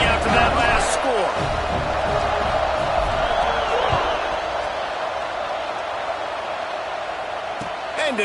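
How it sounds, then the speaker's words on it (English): A football stadium crowd buzzes with steady, loud murmuring and scattered cheers after a score, forming a dense wash of noise under a commentator's voice. "this crowd is buzzing after that last score"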